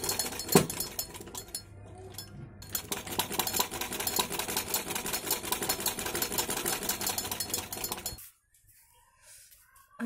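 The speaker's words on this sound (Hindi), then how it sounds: "गले के पास आप सिलाई लगाते जाना है।" A sewing machine stitches lace near the back neck of a blouse, a rapid, steady mechanical whirr running for about eight seconds before stopping abruptly into near silence.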